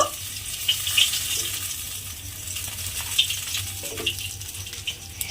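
A fish head frying in hot oil gives a steady, close sizzle with a faint watery crackle and a few brief spatters, and no one speaks over it.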